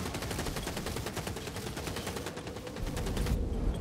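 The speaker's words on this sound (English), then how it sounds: "That rattling's about to fire!" Ratling gun from Warhammer Vermintide firing a rapid, continuous rattling stream of shots, loud and close, briefly cutting off near the end.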